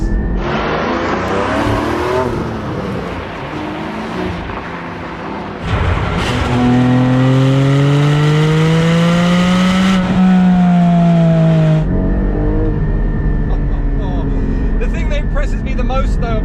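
A Porsche 718 Cayman GT4's 414 bhp flat-six engine roars loudly and climbs through the revs, with pitch rising between gear changes and a voice speaking over it.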